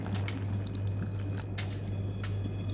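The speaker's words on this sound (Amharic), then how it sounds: "ውሃ ጨምርበት ትንሽ ማለት ነው።" Water poured into a pot of cooking oatmeal, a faint, steady wash of splashing and dripping over a low hum, lasting a few seconds with no talk.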